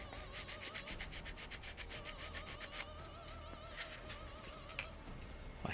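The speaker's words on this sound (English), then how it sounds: "It is tricky sanding this one down." A wooden piece is sanded down by hand with fast, regular back-and-forth rubbing strokes. The strokes are rhythmic at first, then turn softer and less even, close up and alone.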